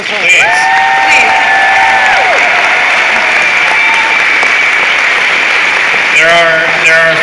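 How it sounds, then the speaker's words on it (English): Loud, steady applause and cheering from a large convention crowd honoring the event staff, with whoops and shouted voices rising over the clapping and a brief voice near the end. "So I wanted a big round of applause for our staff."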